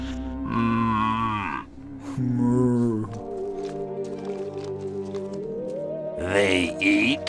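Cows lowing in the video game Destroy All Humans!: several long, drawn-out moos with wavering pitch in sequence, loud and close, with a short gap between calls and a final rising moo near the end.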